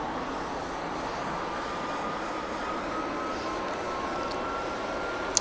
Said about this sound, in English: We'll let the RPM settle to wherever it's going to settle on this engine.